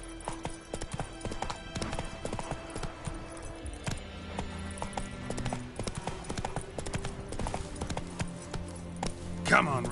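Roach the horse gallops in The Witcher 3, rapid rhythmic hoofbeats continuing throughout with game ambience beneath and a voice speaking over it.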